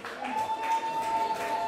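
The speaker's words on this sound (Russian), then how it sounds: "Ваши аплодисменты" Moderate audience applause greets a strip dance team at a dance competition, a steady wash of clapping with a faint tone and voices underneath.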